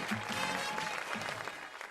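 Brief, fairly faint applause from an audience welcoming a presenter at a tax launch party, a short patter of clapping under soft crowd murmur.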